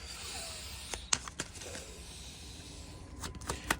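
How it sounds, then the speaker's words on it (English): Tarot cards being shuffled, with several quick riffling bursts and soft slaps separated by quiet pauses, close by. "Let me give this a good shuffle"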